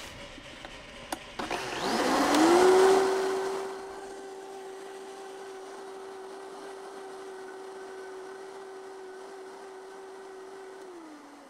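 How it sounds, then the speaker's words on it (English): A kitchen blender rinses out its jar with a little water. A short rough whir leads into a steady, even motor hum that runs for several seconds at moderate loudness with no talking. "so I can rinse out that blender jar and get the rest"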